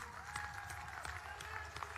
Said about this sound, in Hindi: कैप्टन साहब के लिए एक बार ताली बजाइए सभी लोग